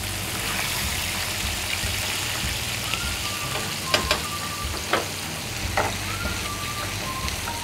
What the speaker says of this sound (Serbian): okrenete šarana s druge strane da se prži